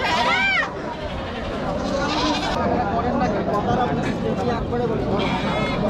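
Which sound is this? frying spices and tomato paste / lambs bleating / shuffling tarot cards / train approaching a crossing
lambs bleating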